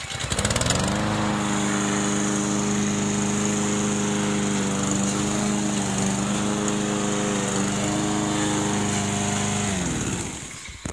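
A Husqvarna all-wheel-drive lawnmower catches on one pull and settles into a loud, steady engine drone up close for about ten seconds before cutting off.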